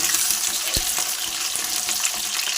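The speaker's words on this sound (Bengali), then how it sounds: "আলুগুলো সব দিয়ে দিয়েছি আলুগুলো ভাজা হতে থাকুক" Potatoes frying in hot oil give a dense, steady crackling sizzle heard close and fairly loud, with one knock of a utensil and no talking.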